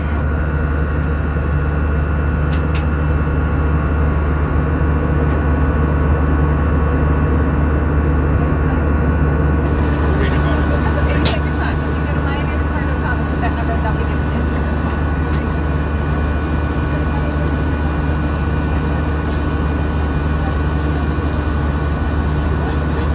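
A steady, loud drone of airplane engines heard from inside the cabin on a flight over Andros Island, a constant low roar with a hissing high end lasting throughout.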